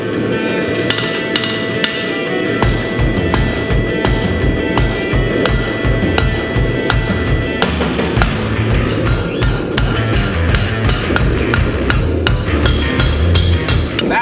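Repeated metallic hammer strikes on hot steel being forged into a slot punch ring out in a steady rhythm, loud and close, with bright clinks on each blow.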